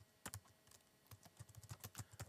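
Quick keystrokes on a computer keyboard, a brief burst, a pause, then a steady run of close, light clicks with no talk.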